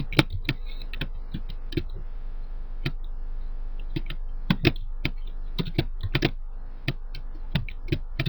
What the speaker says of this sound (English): So go ahead and type that in.